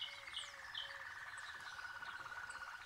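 A Harz Roller canary sings in a steady, continuous rolling trill, with brief higher chirps breaking over the sustained song, heard close and alone.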